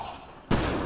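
Sudden burst of gunfire in the sci-fi shooter game Mass Effect Andromeda, a loud dense blast cutting in halfway through after a quieter stretch.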